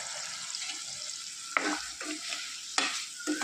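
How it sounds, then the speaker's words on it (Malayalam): Tomatoes and shallots sauté in a pan for a Kerala-style shallot curry, a continuous hiss of frying broken by several scraping stirs of a spoon against the pan. "തക്കാളി ഉള്ളിയൊക്കെ വഴന്ന് വരാൻ തുടങ്ങിയിട്ടുണ്ട്"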